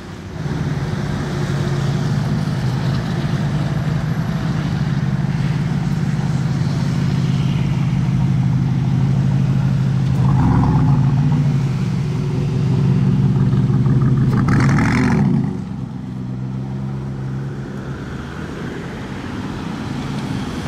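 A powerful hypercar engine roars close by in Monaco for several seconds, swelling as it accelerates past, then drops away to a lower idle-like rumble.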